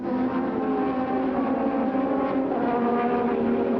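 Formula One race cars of 1987 at the Brazilian Grand Prix howl through fast corners, a continuous high-pitched engine drone that rises and falls slightly and stays loud.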